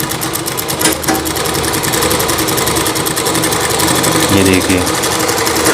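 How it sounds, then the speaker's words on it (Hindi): A sewing machine stitches a Rajputi suit, its fast, even mechanical rattle running loud and close throughout, with someone speaking briefly over it. "जब हम शुरुआती सिलाई करते हैं तो हमें ध्यान रखना है कि जो मोटर पे सिलाई नहीं करना है, पैर पे हमें अच्छे से सिलाई करेंगे"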